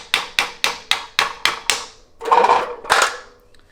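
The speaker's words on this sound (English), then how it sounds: "Give it a couple of love taps with a screwdriver." Seven quick, sharp taps with a screwdriver knock a bow part into place in an even rhythm, followed by a couple of scraping, shuffling handling sounds up close.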